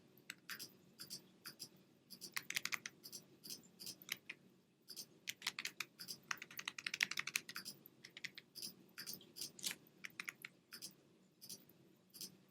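Computer keyboard keys clatter in quick, irregular bursts of clicks, with bracket keys tapped while drawing in Photoshop; close, crisp typing runs through the whole stretch with short pauses and no voices.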